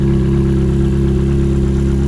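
A Ferrari F430 engine idles close by with a steady, loud, even burble and a fine pulsing rhythm, holding constant without revs or voices.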